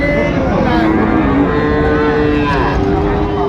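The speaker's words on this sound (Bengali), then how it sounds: "খালি গরুই হাটে খালি গরুই হাটে" Sahiwal cattle moo loudly and repeatedly over a dense, noisy background of a crowded cattle market in Dinajpur, Bangladesh, with people talking throughout.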